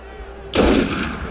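A single sharp gunshot fires from a period firearm in Assassin's Creed Unity, a loud sudden crack after a quiet moment, with a brief decaying tail.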